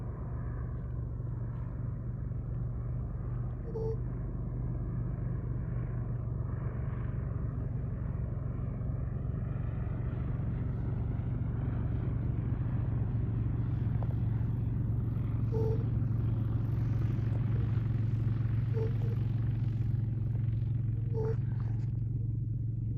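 A Minimax 1100R light aircraft on its first flight rolls down the runway for takeoff, its engine droning steadily at a distance and building slightly in strength over time.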